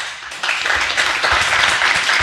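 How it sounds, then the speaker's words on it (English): Applause from a live audience for startup founders at a venture capital pitch feedback event. The clapping is brief and steady and rises quickly after a short quiet opening. "Round of applause to the founders and to Mike."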